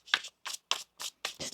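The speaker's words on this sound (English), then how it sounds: "One more shuffle here." A tarot card deck being shuffled in five quick riffled bursts separated by short pauses, close and fairly quiet, with no talking.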